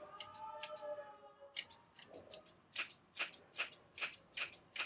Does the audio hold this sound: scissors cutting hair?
yes